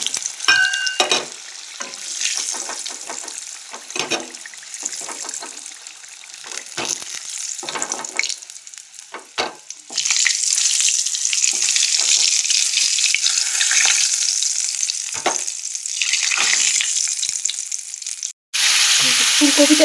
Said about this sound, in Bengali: ধীরে ধীরে ভাজা হতে থাকে মাছটা আমি কমিয়ে দিয়েছি এখন এটা একটু ভালো করে ভাজবো